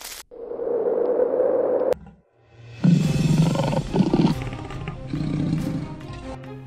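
Lions roar and growl loudly in a fierce scuffle while attacking a cheetah, with a low sustained snarl first, then a burst of harsh, overlapping roars close by.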